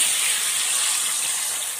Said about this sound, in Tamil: நம்ம காஞ்சி வச்ச புளி தண்ணி சேர்த்துறலாம்